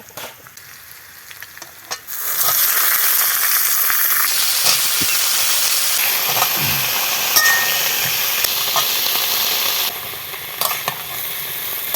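Mixed winter vegetables drop into hot oil with a sudden loud sizzle that keeps hissing steadily, broken by occasional stirring clinks and a slight dip near the end.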